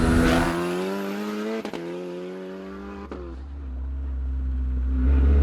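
A high-powered road car with 780bhp per tonne accelerates hard, its engine howling upward through the revs with quick flat-shift gear changes cutting in briefly, loud and close without talk.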